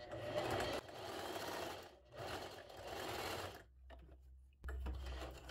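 A domestic sewing machine stitches fabric in close, loud bursts of rapid whirring, broken by short pauses and a longer stop before it starts up again.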